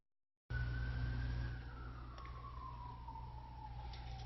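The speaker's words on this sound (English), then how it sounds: "Hear that siren?" A siren wails in the distance, its pitch slowly sliding downward over a steady low rumble of traffic noise.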